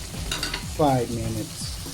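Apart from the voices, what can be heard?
stirring sausage and green peas in a pan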